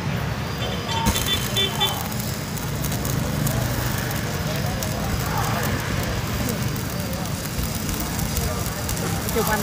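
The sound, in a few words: electric arc welding machine crackling while welding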